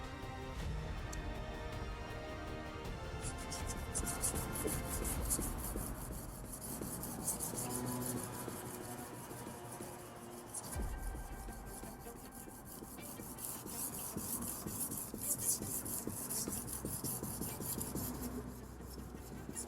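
A sashimi knife is honed on a Naniwa diamond stone, giving a continuous close scraping rasp with repeated back-and-forth strokes throughout.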